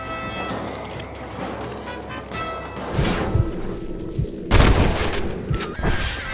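Gunshots in the video game Red Dead Redemption, a few sharp loud cracks and a heavier boom over a rumbling ambient background, with no talking.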